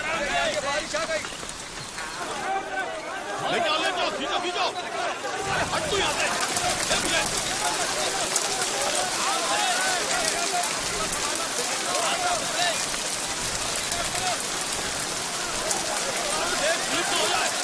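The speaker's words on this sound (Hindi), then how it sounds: "बारिश आ गई।" Heavy rain pours down in a dense, continuous hiss across an outdoor scene, with excited voices shouting over it.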